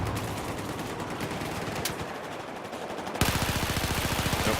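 An AK rifle fires on full auto in the game Battlefield 4. A rapid, even burst of loud shots rings out near the end, preceded by more distant scattered gunfire and battle noise.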